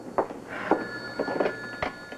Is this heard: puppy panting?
no